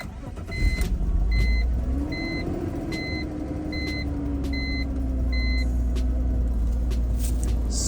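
A BMW E46 wagon fires up after a battery replacement and settles into a steady idle, its mid-pitched engine hum rising then holding. A series of short electronic beeps rings out over it in the first few seconds.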